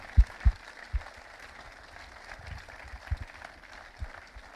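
Audience applause at a film festival opening ceremony in Salon-de-Provence, heard as a few sharp claps and scattered clapping from a moderately distant crowd that comes and goes without building into a sustained ovation.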